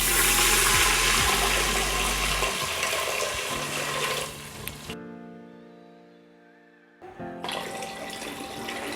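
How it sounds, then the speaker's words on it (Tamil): Water running from a tap into a vessel of raw rice and split moong dal for ven pongal, a steady rushing pour that cuts off midway, leaving a quiet gap before the flow resumes. "நம்ம தண்ணி விட்டுக்கலாம்."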